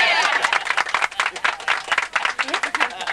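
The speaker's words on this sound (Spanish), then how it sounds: "También este sí que merece un aplauso" Applause from an audience, a dense patter of many hands clapping that holds steady for about three seconds, close and lively, with voices faintly mixed in.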